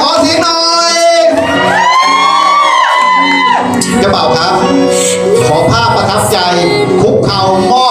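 Guests at a Thai wedding erupt in loud, close cheering, whooping and shouting, with several excited voices rising over one another in a continuous burst.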